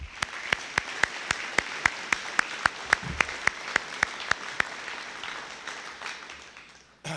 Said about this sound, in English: Can you help me give a round of applause to Clay and all of our instructors who carry